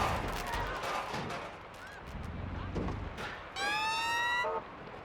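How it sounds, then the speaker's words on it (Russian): An ambulance siren wails in the video game Watch Dogs Legion. A short, loud rising tone cuts in late, after noisy street traffic and bangs, and someone talks over part of it. "А, это скорая, ёптать."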